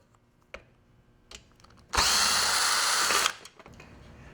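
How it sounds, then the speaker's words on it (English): A power tool spinning out hex and Allen head bolts from the black plastic shroud of an E43 43cc 2-cycle powerhead, one loud close whirring burst of about a second after a few light clicks and taps. "removing the two hex head bolts on the bottom and the two Allen head bolts in the top"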